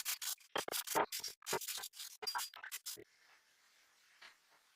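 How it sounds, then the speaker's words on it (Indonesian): A brush scrubs rust and scale off an iron clamp in quick, loud, irregular scraping strokes for about three seconds, then the scrubbing stops and only faint, quieter rustling remains. "Setelah kerak dan karat terkelupas, maka lakukan penyikatan. Sikat sampai bersih."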